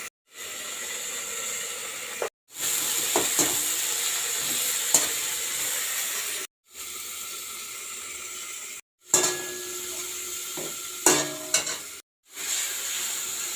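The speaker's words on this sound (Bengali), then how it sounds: "জল দিয়ে পুরো মশলাটা একদম কষিয়ে নেওয়া হচ্ছে।" Spice masala with ginger paste frying in a pan, a close hissing sizzle broken by several sudden silences, with scraping stirs and clinks of a utensil against the pan.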